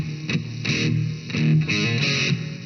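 A heavily distorted electric guitar plays an intro riff with open-string hammer-ons, giving short, thick, buzzing chord stabs in an uneven rhythm, loud and close with no talking.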